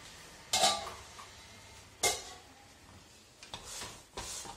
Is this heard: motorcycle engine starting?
no